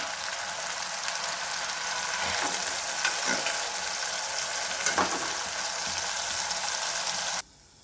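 Soya chunks fry in a pan with ginger, turmeric and salt, giving a continuous close hissing sizzle with a few faint stirring scrapes. The sound cuts off abruptly near the end.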